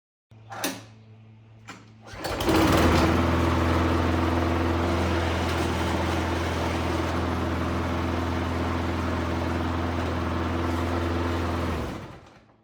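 A 6.5 horsepower lawn mower engine, smoking from too much oil, clicks, starts and runs at a steady, fairly quiet drone for about nine seconds before cutting off.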